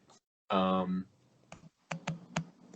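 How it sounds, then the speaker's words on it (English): Computer keyboard typing: a few sparse, sharp clicks follow a brief harmonic vocal sound, fairly close and moderately loud. "He's now typing in the chat."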